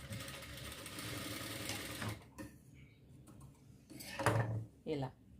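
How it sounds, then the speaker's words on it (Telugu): A sewing machine stitches a strip for a baby frock with a rapid mechanical chatter that stops, then comes back in short bursts. Someone speaks quietly in the pauses. "ఈ పట్టి చివరి నుంచి ఇలా కుట్టుకురావాలి."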